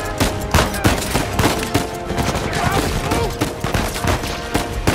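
Loud, dense gunfire rattles from a firefight in the video game Uncharted 4, with rapid bursts and overlapping shots packed closely through the whole stretch.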